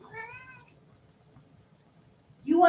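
A house cat named Charlie, drawn by the smell of roast beef, gives one clear drawn-out meow up close, then near silence, followed by the onset of a louder second cry.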